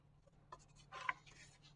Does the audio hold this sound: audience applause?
no